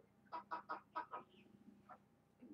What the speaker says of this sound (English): The chicken jumped on the bed.